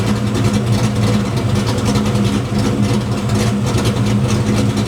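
A Foxbody Mustang engine idles steadily and loudly up close, a dense low rumble with a constant throb and only a slight dip partway through, no talking over it.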